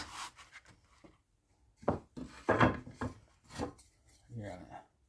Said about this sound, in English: just like when you sand a box